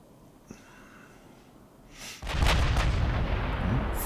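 Naval guns in Ultimate Admiral Dreadnoughts open fire with a deep rolling boom after a quiet lead-in, followed by sustained low rumbling and crackle as the salvo echoes out.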